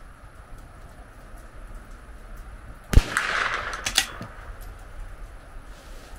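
A single sharp rifle report fired over a chronograph during a velocity test, followed by a brief rattling clatter and a softer knock about a second later, set against steady outdoor background hiss.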